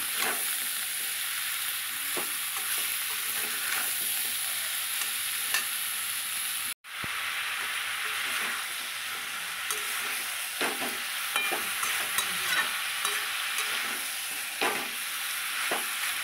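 Cauliflower stalks fry in oil tempered with black cumin, a steady sizzle running throughout with occasional stirring scrapes, close and continuous with one brief dropout midway.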